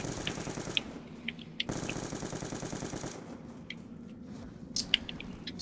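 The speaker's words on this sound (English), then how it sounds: "Wow, this gun is sprayed. It sprays, I don't like it very much." Automatic weapon fire sprays in rapid, continuous bursts during Black Ops II Zombies gameplay, with a brief pause before another sustained volley and a few sharp impact pops near the end.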